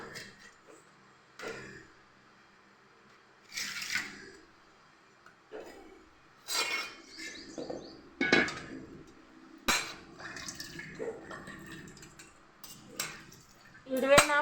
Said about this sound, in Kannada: ಈಗ ಅದಕ್ಕೆ ಕಟ್ ಮಾಡ್ಕೋಬೇಕು ಸಣ್ಣಾಗಿ ನೋಡಿ ಈ ಥರನ ಕಟ್ ಮಾಡ್ಕೋಬೇಕು